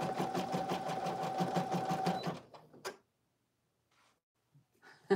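An embroidery sewing machine stitches in a steady, fast mechanical rhythm for about two seconds, then stops, followed by a few faint clicks and near silence.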